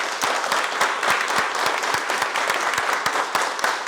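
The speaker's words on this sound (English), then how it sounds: "Clap it up if you're hungry right now." A high school football team claps together at a pregame gathering, a dense, loud burst of applause with steady rhythmic claps running throughout, close by and without talk.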